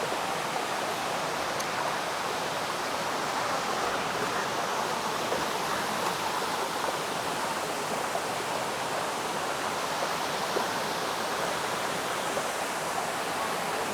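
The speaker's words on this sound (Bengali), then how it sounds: "ঝর্ণার কাছে আমরা প্রায় এসে গেছি।" The Dharagiri waterfall roars as a steady, broad rushing wash of falling water, loud and unbroken with no voices over it.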